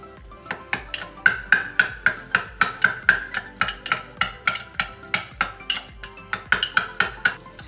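Fast, steady clinking and scraping of a whisk or spoon beating frothy dalgona coffee mixture in a cup, close and crisp, with a regular rapid rhythm that continues throughout.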